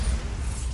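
Bombarda blasting spell cast in the Hogwarts Legacy video game: a loud, dense rumbling burst with heavy low-end boom, sustained for under a second without a clear gap.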